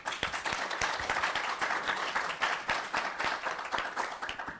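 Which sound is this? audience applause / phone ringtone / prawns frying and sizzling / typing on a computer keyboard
audience applause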